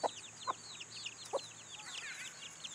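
A chicken clucks close by in short separate bursts, while a chorus of chirping small birds carries on in the background.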